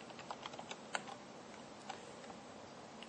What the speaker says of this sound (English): So to do that, we type in sudo